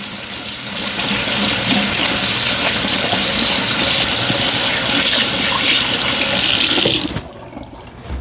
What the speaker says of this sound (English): I'm just gonna rinse off my peanut butter spoon that I was using earlier